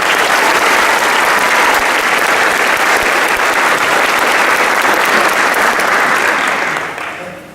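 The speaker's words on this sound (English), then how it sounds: "let's give them a hand of applause" Loud, sustained applause from a crowd at a high school academy graduation ceremony, many hands clapping densely and evenly before fading out near the end.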